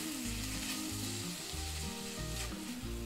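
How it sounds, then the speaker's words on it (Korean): Garlic and onion sauté in a splash of water with no oil, a soft continuous hiss and sizzle heard under a louder melodic backing tune with stepped low tones throughout. "다시 한번 기름 필요 없이 물로 볶아주세요"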